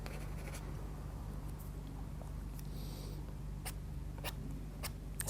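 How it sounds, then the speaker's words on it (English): A sharp tool scrapes scribbles and lines into layered Derwent Artbar colour, a steady close scratchy texture over a constant low hum, with a few brief sharper scrapes toward the end. "Maybe down the bottom here we might scrape in a few scribbles and lines."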